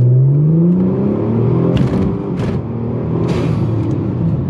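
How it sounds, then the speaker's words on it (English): A Ford Taurus SHO with its boost controller bypassed accelerates at full throttle from a stop, its engine rising in pitch through a gear, with short whooshing bursts and a loud, close, steady drone. "this is full throttle from a dead stop."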